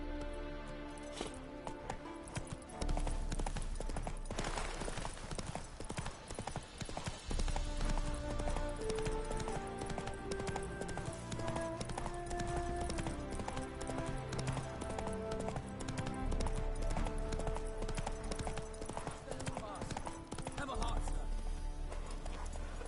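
Roach, Geralt's horse in The Witcher 3: Wild Hunt on PS5, clip-clops at a steady rhythmic gait with occasional snorts, mixed with game music and characters talking over it.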